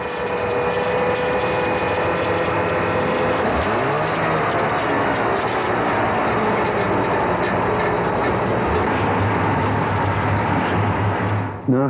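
A Trabant 601 engine runs steadily during a factory noise test at 2000 to 3000 rpm, a continuous loud drone with mechanical clatter and some changes in pitch.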